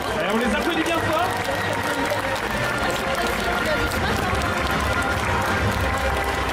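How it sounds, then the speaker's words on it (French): Indoor festival audience applauding cosplayers at a cosplay contest, a loud, dense wash of clapping and crowd noise with some cheering and voices mixed in, steady throughout. "Et on les applaudit bien fort."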